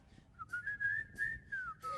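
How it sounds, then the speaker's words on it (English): Whistlers carry a short tune together at a virtual Fourth of July parade celebration in Pittsfield, one steady sustained melodic line rising and falling over quiet background. "Come on, everybody, and whistle this tune right now."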